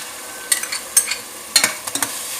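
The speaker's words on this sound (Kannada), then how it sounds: "ಕಜ್ಜಿ ವಾಸನ ಫ್ರೈ ಮಾಡ್ತೀವಿ." Ginger-garlic paste and tomato frying in oil for a Mangalore-style biryani, soft sizzling broken by a few sharp scrapes and clatters of a spoon in the pan, close and without talk.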